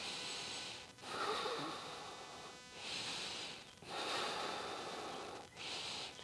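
Slow, deep breaths during a yoga flow: three long airy inhale-exhale cycles, close and fairly soft, separated by brief pauses with no talking.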